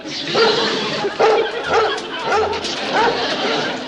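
A dog barks repeatedly in a rural 1960s TV comedy scene, a series of short, close yips over steady background chatter and crowd noise.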